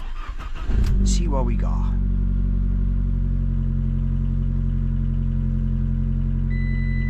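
A Fiat car engine cranks briefly and catches, then settles into a steady, loud idle that runs on alone after a voice speaks over the start.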